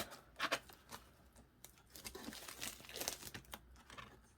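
Close, quiet crinkling and tearing of tape and cardboard, in irregular bursts as a box is pulled open.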